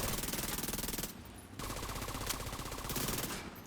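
Rapid automatic gunfire from a turret in the video game The Division 2, a dense, continuous rattle of shots that dips briefly and then resumes, loud and sustained throughout.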